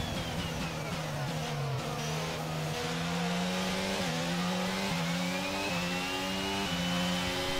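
An F1 2022 video game race car engine holds a steady, loud whine, rising and falling as the car shifts through gears, with no voices over it.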